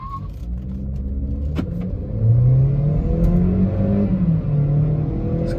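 A Skoda Slavia 1.0 TSI with DSG gearbox and a Volkswagen Vento accelerating hard off the line in a drag race, engine note climbing through gear changes, steady and close with no talk.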